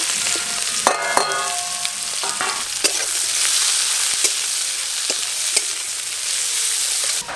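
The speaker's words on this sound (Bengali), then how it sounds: "আদা রসুন পেঁয়াজ সবকিছু হালকা করে ভেজে নেব।" Ginger, garlic and onion fry in hot oil with whole garam masala, a loud steady sizzle broken by scattered crackles and the scrape of stirring, close up with no voices.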